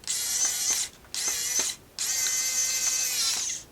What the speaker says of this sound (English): Now if I can get the screwdriver